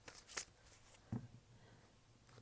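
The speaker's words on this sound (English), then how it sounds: "Let me shuffle this one more time before I ask again." Tarot cards being shuffled by hand at close range, a few soft riffling bursts and taps separated by quiet pauses, with no talking.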